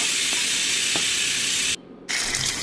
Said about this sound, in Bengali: কালো জিরে আর মেথি ফোড়ন দিলাম